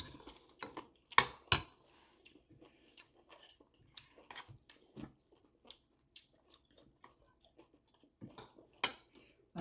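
Someone chews old cucumber (nogak) in crisp, irregular crunches, several sharp bites scattered through otherwise quiet surroundings, close to the ear and fairly soft.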